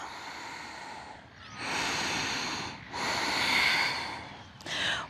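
Slow, audible breaths drawn in and pushed out while holding a Warrior Two yoga pose, about three long hissing exhalations close to the microphone with short pauses between them and no talking.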